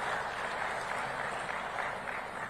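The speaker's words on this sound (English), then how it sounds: "So let's give a round of applause, Madam President, as she exits the room." Audience applause at Africa's Food Systems Forum 2023 as the outgoing president leaves the room, a steady, even wash of many hands clapping throughout, moderately distant in a large hall.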